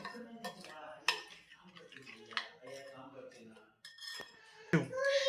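Spoon stirring and clinking in a bowl as curd and sugar are mixed into poha idli batter, with scraping and clinks spread throughout and someone talking over it.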